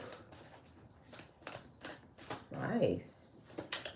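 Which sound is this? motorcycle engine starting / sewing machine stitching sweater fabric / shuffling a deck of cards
shuffling a deck of cards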